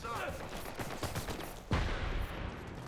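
An automated turret in a shooter video game fires rapid, fairly faint bursts of gunfire amid other combat noise, with a sharper impact near the end. A commentator talks over it.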